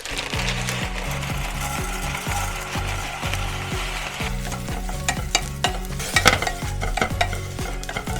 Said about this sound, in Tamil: ஒரு பேனில் கொஞ்சம் பட்டர் சேர்த்துட்டு சேமியா இருக்கு இல்லையா, வெர்மிசிலி, இதை தான் வந்து ஃப்ரை பண்ணி எடுத்துக்க போகிறேன்